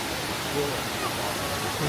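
A Black Forest waterfall in Germany gives off a steady, broad rushing roar, unbroken and fairly close, for the whole short stretch.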